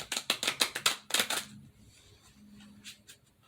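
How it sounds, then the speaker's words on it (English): Tarot cards being shuffled, a run of about eight quick crisp riffling bursts in steady rhythm, then a quieter pause with a faint rustle, close and without talking. "If you don't shuffle these cards right, they don't fit together well"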